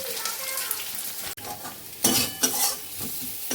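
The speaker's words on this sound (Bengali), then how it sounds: "রসুনও দিয়ে দিলাম মাছটাকে ভালো করে ভেজে নিই" Fish frying with garlic in a pan at home, a bright sizzle with metal utensil stirring and clinks against the pan, one sharp knock, then louder bursts of scraping toward the end.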